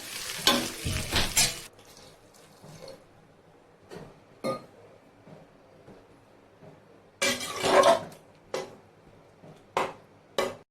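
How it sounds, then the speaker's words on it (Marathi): Stuffed brinjals stirred in hot oil in a cooker, heard as intermittent bursts of scraping and sizzle separated by near silence, with a loud clattering stretch at the start and another near the end. "आता सर्व वांगी तेलामध्ये टाकून घेतली आणि चांगली अशी परतून घ्यायची आहे"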